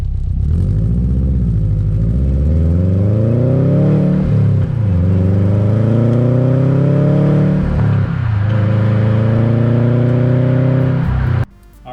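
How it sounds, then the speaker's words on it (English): A 2007 Subaru WRX with a newly installed exhaust starts up and revs up and down in loud, close sweeping pulls for about twelve seconds, the engine note rising and falling in three long waves before cutting off. "So that was first startup."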